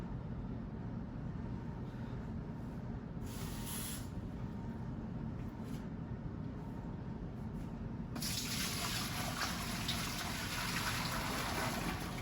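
Tap water runs steadily into a brewing pot for home beer brewing, a continuous close gush that grows brighter and stronger toward the end as the flow increases.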